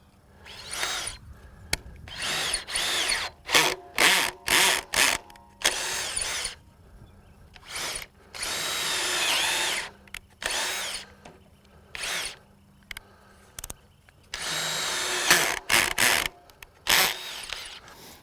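A RIDGID 18V brushless drill drives a metal self-tapping screw in a series of short whirring bursts, some longer runs, with clutch ratcheting between gaps of silence.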